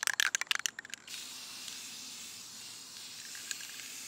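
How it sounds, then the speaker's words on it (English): A can of matte UV protective spray hisses in a steady aerosol stream as it coats silk flowers outdoors, preceded by a few quick rattling clicks from the can. "I spray my flowers with UV protective spray so they don't fade in the sun."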